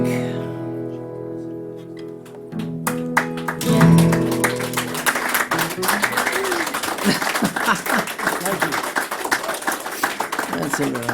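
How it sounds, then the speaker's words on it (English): Audience applause after a song at a songwriter session, swelling into dense, steady clapping that continues to the end, with the music fading out beneath it and voices mixed in. "the applause is awesome"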